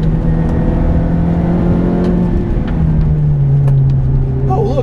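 A Ferrari F430 with a manual gearbox being driven, its engine droning loudly from inside the cabin with the pitch shifting between throttle changes, alone without talk.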